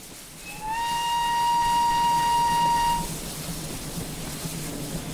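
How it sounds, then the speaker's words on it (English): In Train Simulator 2017, a steam-style train whistle sounds at a crossing: one sustained, multi-toned blast lasting about two and a half seconds, loud and clear over faint background rumble, then cutting off. "Blow the whistle for it."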